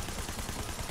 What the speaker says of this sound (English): you can hear gunfire, but I'm not shooting